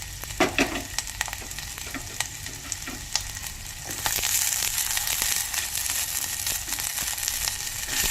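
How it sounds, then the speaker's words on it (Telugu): Chopped vegetables for a jowar (sorghum) soup sizzle steadily in a hot pan, with scattered stirring clatters and a louder, denser frying hiss from about halfway on; no talking. "ఇలా కూరగాయ ముక్కలన్నీ వేసుకొని ఒక 5 నిమిషాలు మగ్గించుకోవాలి."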